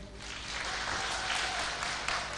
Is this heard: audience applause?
yes